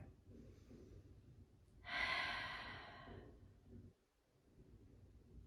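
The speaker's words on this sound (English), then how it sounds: "Open mouth breath." One long, forceful open-mouthed exhale during a yoga session, loud and breathy, standing alone against a quiet room with faint background noise before and after.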